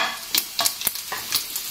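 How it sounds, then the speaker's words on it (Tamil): Mustard seeds, dried red chili and cumin crackling in hot oil for a quick mutton curry tempering, with sharp popping bursts over a continuous sizzle, close and fairly loud. "கொஞ்சமா வந்து கடுகு போட்டுக்கிறேன், காஞ்ச மிளகா, கொஞ்சமா சீரகம்"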